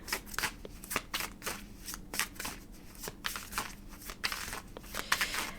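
Oracle cards being shuffled for a love tarot pick-a-card reading, giving a close, rhythmic series of riffling, slapping card sounds in quick repeated bursts, alone without talk.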